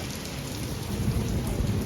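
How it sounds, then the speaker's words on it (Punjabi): Steady heavy rain hisses throughout, with a low rumble of thunder swelling in the background. "ਉਧਰੋਂ ਵਾਹ ਮੀਂਹ ਪੈ ਗਿਆ ਲਿਸ਼ਕਦਾ ਹੀ ਬੜਾ ਹੈ ਤੇ ਨੇਰੀ ਵੀ ਬੜੀ ਹੈ"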